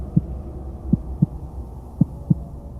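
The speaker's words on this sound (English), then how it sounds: "Everything was so quiet that Thomas could hear his heart beating in his chest." Heartbeat sound effect, five soft low thumps in an uneven rhythm over a quiet hum, close and muffled.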